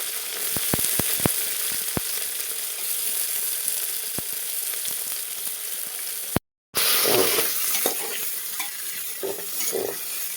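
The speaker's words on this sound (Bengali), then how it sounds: "পেঁয়াজটা দিয়ে, পেঁয়াজটা হালকা ভাজা ভাজা করে একটু যখন সফট হয়ে যাবে" Onions frying lightly in a pan for biryani, a steady sizzle with a few sharp utensil taps early on, a short dropout, then stirring and louder bubbling.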